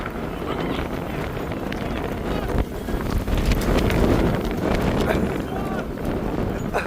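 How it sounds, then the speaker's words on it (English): Strong wind roars across the microphone at an outdoor ice skating rink in Domino Park, rising and falling in loud gusts, while a voice speaks over it. "It's really windy out here."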